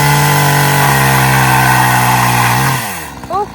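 A chainsaw revs loudly and steadily as it cuts through wood in a garden, the engine note dropping near the end as the saw comes off the cut and briefly idles.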